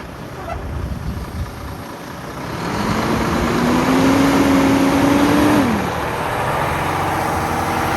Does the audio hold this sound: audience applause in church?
no